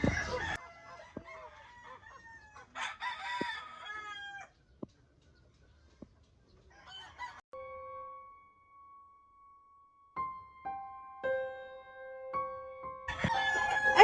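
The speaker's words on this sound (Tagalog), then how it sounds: "Karoon pa ko kabantay sa manok nila ni Dido." A rooster and hens call in a quiet yard: several separate crows and clucks break out in short bursts between silent gaps, fairly close and clear.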